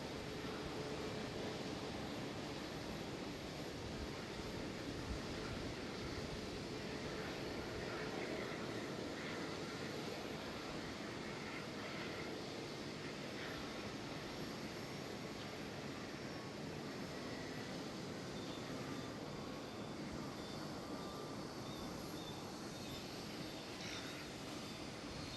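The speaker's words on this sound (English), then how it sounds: "I see a TUI 737, a MAX 8." A TUI Boeing 737 MAX 8 taxiing at Amsterdam Schiphol airport, a steady distant jet engine drone that holds the whole time against broad outdoor noise, with no voices.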